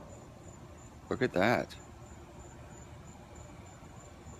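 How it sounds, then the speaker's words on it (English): Steady chorus of crickets trilling at night in the background, continuous and fairly faint, with a brief spoken remark near the start. "I can hear the crickets chirping in the background."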